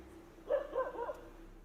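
Dogs bark outdoors at night at a college, a short burst of several mid-distance barks over a quiet background.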